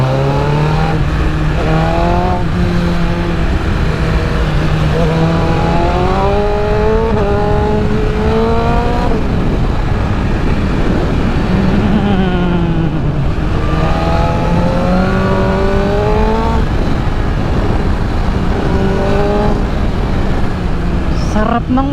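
BMW M1000RR motorcycle revving repeatedly on a busy road, loud and close, each rev climbing sharply then falling back in a recurring rhythm over steady engine drone, with faint talk mixed in.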